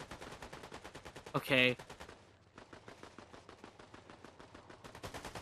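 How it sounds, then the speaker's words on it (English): Gunfire in Fortnite: a steady stream of rapid, evenly spaced shots at moderate distance, broken by one brief loud burst; a voice speaks briefly. "Are they even actually fighting, or are they just randomly just shooting?"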